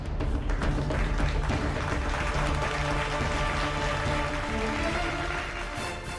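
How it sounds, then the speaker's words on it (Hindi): Lawmakers in the US Congress applaud Zelensky with sustained, dense clapping. The sound is a loud, even wash that continues throughout and fades a little at the end. "ज़ेलेंस्की के लिए तालियां बजा रहे हैं।"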